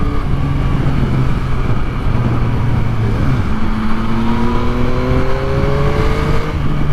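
A Yamaha MT-09 motorcycle rides through traffic, its engine droning loudly and steadily with rising and falling pitch as it accelerates and shifts, overlapping wind roar close to the rider.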